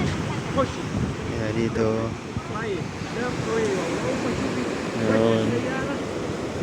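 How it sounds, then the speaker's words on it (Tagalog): Sea waves at Jeddah Corniche make a steady broadband wash, which may be mixed with wind, beneath a person talking close to the microphone. "At ito yung dagat."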